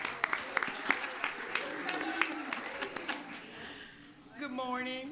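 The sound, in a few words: applause for basketball players at council meeting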